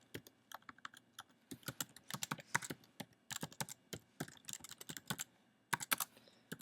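Keys clatter on a computer keyboard in quick bursts of close, crisp taps with short pauses between words, in an otherwise quiet room.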